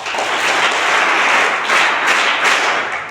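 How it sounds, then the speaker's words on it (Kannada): An audience at a motivational lecture breaks into loud, sustained applause, with dense clapping swelling and rising in waves for a few seconds and no voice over it. "ನೀವು ಚಪ್ಪಾಳೆ ಹೊಡಿಬೇಕಿತ್ತು."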